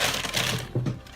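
Drugstore products bag being handled, giving a burst of crinkly plastic rustling and crackling that is loud and close, then briefer crumples toward the end, with no talk.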